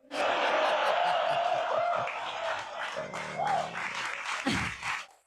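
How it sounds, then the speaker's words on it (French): Audience applause at a stand-up comedy show, a dense, steady wash of clapping from a crowd with some cheering voices mixed in, fading near the end. "Regardez combien d'applaudissements elle reçoit"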